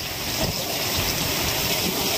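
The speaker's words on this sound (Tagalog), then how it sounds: "Ayan, bumanat na naman ngayon, malakas na hangin." Strong typhoon wind from Typhoon Kabayan in Surigao, Mindanao, a steady roaring broadband rush that stays loud and unbroken, with no clear gusting pattern.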